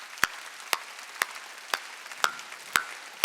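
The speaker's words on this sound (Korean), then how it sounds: "박수 쳐" Church congregation at a Sunday worship service clapping in slow unison, about seven sharp claps spaced evenly half a second apart over a quiet room.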